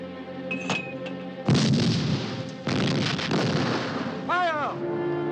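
Artillery guns fire in a battle at El Alamein, with heavy booming blasts and rumbling explosions following one another under shouted orders and tense voices. A whistling, sweeping tone rises near the end.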